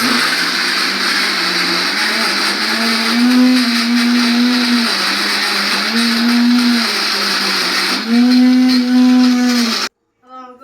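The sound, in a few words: mixer grinder powdering jaggery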